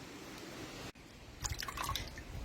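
Spring water drips and splashes during a Kupala folk washing ritual staged by a folk theatre, a short run of bright drops and trickles after a brief pause, close and fairly soft.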